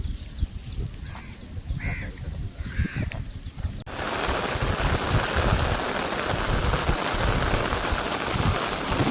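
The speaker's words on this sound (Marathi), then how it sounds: "आला आता पाऊस बघा पाऊस आहे" Crows caw a few times over quiet surroundings by a creek, then heavy monsoon rain abruptly sets in and pours steadily, a dense, close drumming hiss.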